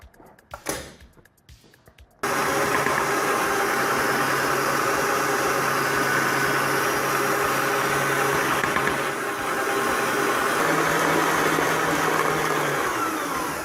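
A stand mixer starts abruptly after a few quiet knocks, then runs at a steady moderate speed with a loud continuous motor whir while whisking crème pâtissière into mousseline cream for a Paris-Brest.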